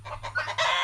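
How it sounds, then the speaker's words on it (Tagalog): Frightened chickens cluck in quick, agitated bursts, close and fairly loud, rising into a louder squawk at the end. "Natakot ang mga manok."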